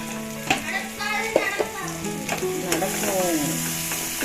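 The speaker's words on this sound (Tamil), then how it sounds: "வெங்காயத்தை நல்லா வந்து வதக்கிக்கலாம்." Onions being sautéed in a pan for a bitter gourd curry, a steady close sizzle with scraping stirs and a few sharp utensil knocks, heard alone without talk.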